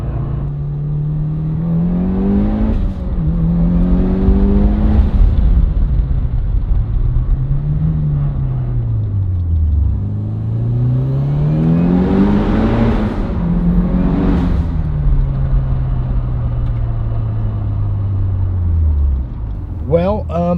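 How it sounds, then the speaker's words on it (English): A 500-horsepower 2003 Mitsubishi Lancer EVO with a built motor on E85 at 34 psi revs hard from inside the car, engine pitch climbing and dropping through several loud pulls and shifts, then a long steady drone. "the ride along today in my 2003 500 horsepower Lancer"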